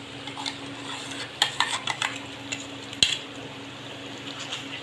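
A ground spice paste is stirred into chicken curry in a pan, with repeated clinks and scrapes of a spoon against the metal over a low sizzle.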